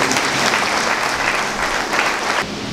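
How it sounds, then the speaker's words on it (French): A church congregation claps together through a Catholic Eucharistic celebration for a religious brother's silver jubilee, a steady, dense round of applause that fills the room and eases off slightly near the end. "je vous invite à applaudir le Seigneur pour sa présence parmi nous"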